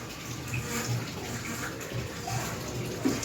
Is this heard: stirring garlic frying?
no